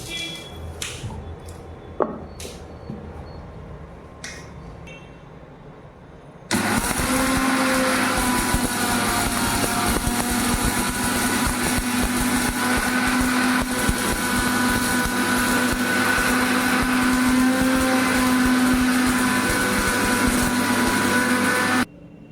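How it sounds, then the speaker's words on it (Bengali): An electric mixer grinder starts abruptly and whirs loud and steady for about fifteen seconds as it grinds roasted ingredients into powder, its motor whine constant with a gritty rattle, after a few quiet kitchen clinks. "এরপরে আমি গ্যাসটা অফ করে এটা মিক্সিতে গুঁড়ো করে নেব।"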